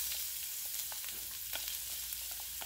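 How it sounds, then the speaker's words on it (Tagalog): Garlic, onion and tomatoes sauté in a pan for Bicol Express, giving a steady, close sizzle with scattered soft crackles and occasional stirring scrapes. "We're going to saute first our garlic, onion, and tomatoes."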